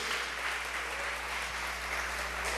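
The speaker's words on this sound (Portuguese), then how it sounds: "Levante as suas mãos e aplauda bem forte o nome do nosso Deus" A church congregation applauding loudly, a steady wash of many hands clapping together with no break, filling the room throughout.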